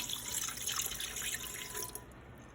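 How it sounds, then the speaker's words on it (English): A cup of water is poured into an Instant Pot, a soft, steady trickling and splashing stream heard close for a couple of seconds before it stops, without speech. "we're gonna pour 1 cup of water into our Instant Pot"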